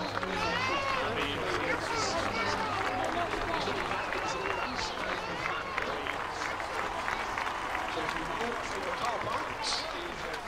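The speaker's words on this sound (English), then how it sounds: "So a round of applause, please." Spectators at a Battle of Hastings re-enactment at Battle Abbey applaud the re-enactors outdoors, a steady spread of clapping mixed with crowd chatter and cheers, fairly distant and continuous.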